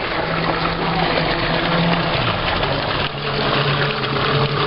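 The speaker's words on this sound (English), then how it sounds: "Or hot spring, and it's called As Burgas for some reason, and the water is really, really, really hot." Hot spring water flowing at As Burgas in Ourense, a loud, steady rushing gush with a constant hiss and a low hum beneath, unbroken throughout and close by.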